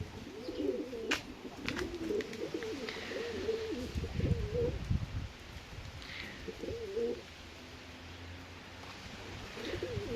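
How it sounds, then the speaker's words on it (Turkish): Pigeons in a cellar loft coo in repeated rolling phrases, several birds close by, with a few faint chirps and light rustling against a quiet, hollow room tone. The calls fall silent in the last few seconds. "Sizin için bugün mahzende kuşlar açtım"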